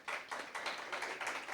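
An audience at a school impromptu speaking competition final applauds, a brief burst of dense, steady clapping from a crowd in a hall.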